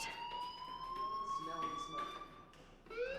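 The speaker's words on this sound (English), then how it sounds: "do you hear that fire alarm? That means you should be outside." A fire alarm in the video game Life Is Strange rings with a steady, high, wavering tone, sounding somewhat distant and muffled, with faint background noise and no clear talking.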